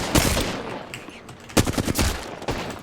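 Bursts of gunfire from an arena shooter video game crack out in quick clusters, loud and close, with short gaps between volleys and a steady game-audio bed underneath.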